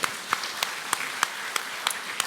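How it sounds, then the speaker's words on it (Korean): A church congregation at a Sunday service claps in welcome, a faint, sparse and fairly regular patter of separate hand claps lasting a couple of seconds. "우리 또 서로 오신 것들 다 환영하니까 서로에게 박수 한번"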